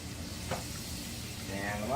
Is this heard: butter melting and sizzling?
yes